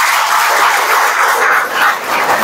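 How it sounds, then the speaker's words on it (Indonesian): A congregation at a worship service inside a detention center (Rutan Kotamobagu) erupts in loud, close cheering and shouting with clapping mixed in, a dense roar of voices that swells and dips briefly. "Beri tepuk tangan yang meriah bagi Tuhan."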